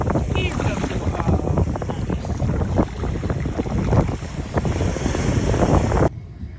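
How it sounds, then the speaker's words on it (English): Surf rolls up onto a beach, a continuous washing roar mixed with strong wind noise and people chatting, cutting off abruptly near the end. "Here comes the water."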